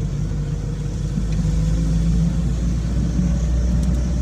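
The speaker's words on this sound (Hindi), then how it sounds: "स्पीड मेंटेन करिए, बढ़ाइए स्पीड और बढ़ाइए" Car engine rumbling steadily and building slightly in pitch as the driver accelerates on a single-lane road during a driving lesson, heard from inside the cabin, close and continuous with no talk.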